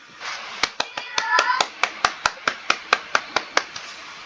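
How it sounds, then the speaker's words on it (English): Clapping during an online Zoom meeting, a few participants at first, then settling into a single steady, close, evenly spaced run of sharp claps. "Give a big round of applause and a big heart to our Weiling."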